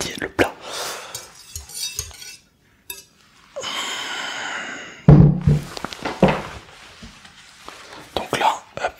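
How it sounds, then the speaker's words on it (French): A mixture stirred in a salad bowl while cooking, with close clinks and scrapes of a utensil against the dish, bursts of brisk whisking and thunks, interrupted by soft whispered talk and a brief pause. "on remue comme des fous, comme d'hab"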